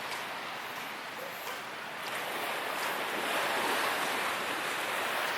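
Surf washing onto the beach at Bauang, La Union, a steady broadband roar of breaking waves with some wind noise, swelling slightly louder toward the end, no talking.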